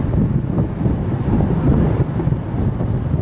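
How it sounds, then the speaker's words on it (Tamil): Strong wind during a night road trip, buffeting the microphone as a constant, loud, roaring rush with small surges and no clear pauses. "காற்று பயங்கரமாக இருக்குது, சூப்பராக இருக்குது."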